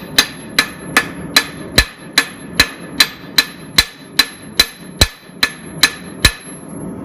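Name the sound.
hammer pounding the bevel of a hand-forged knife blade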